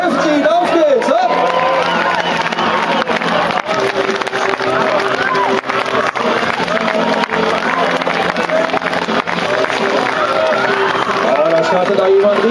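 A crowd at a Stihl Timbersports springboard competition in Hannover cheers and claps steadily for a competitor, with whoops and shouts rising over a continuous loud roar, and an announcer talks over it.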